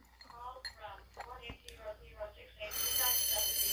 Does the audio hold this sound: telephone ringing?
yes